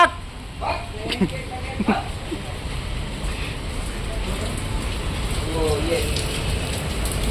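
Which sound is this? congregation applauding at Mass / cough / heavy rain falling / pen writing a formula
heavy rain falling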